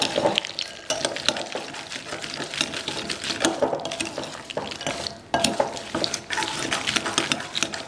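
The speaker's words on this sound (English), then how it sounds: "We're gonna add the almonds to it and stir them up." Almonds being stirred into a chocolate mixture for sprouted, dehydrated chocolate-covered almonds, giving a steady close scraping and clicking texture with brief pauses and no talking.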